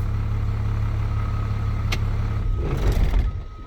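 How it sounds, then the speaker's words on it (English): A Class B truck's running engine idles with a low steady drone, then rumbles briefly and cuts off near the end, leaving a quieter tail. "I'm going to, 1, turn the truck off."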